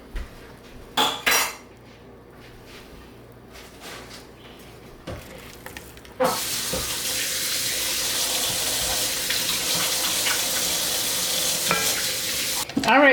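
Ground turkey sizzling steadily in a pan while a utensil scrapes and stirs, with a few knocks and clinks early on before a loud, continuous frying hiss takes over.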